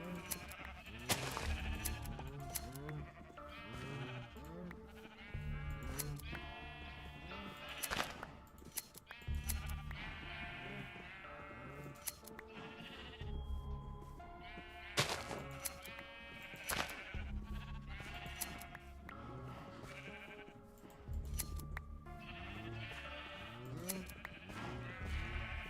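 Sheep bleating in the Minecraft game, repeated loud wavering baas from several animals overlapping continuously, with a few sharp clicks and knocks between calls.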